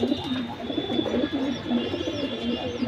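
Pigeons of Bengali fancy lines such as lal patti, military silver and bagha, kept in pairs, coo steadily in close, throaty repeated phrases, with faint chirps and a constant background hum.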